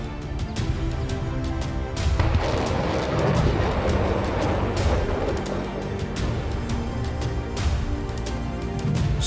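British-supplied M270 multiple launch rocket systems firing missiles, a sustained roaring rumble with a sharp burst near the start and rolling booms continuing throughout, loud and heavy.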